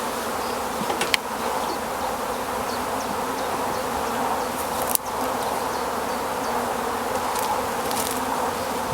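Dense, steady buzzing of many honeybees fills the air around the hive during a hive split, constant and close, with a couple of brief clicks and knocks.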